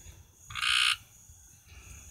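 A frog near a tree-frog tadpole pond gives a single loud, harsh croak mid-clip, followed by a fainter call, over quiet outdoor background.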